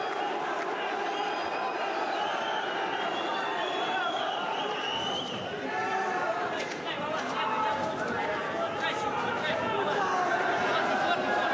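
Fight fans in an arena crowd roar and chatter steadily throughout a bout between Firdavs Zaripov and Vladimir Alekseev, a dense continuous crowd wash with commentary running over it.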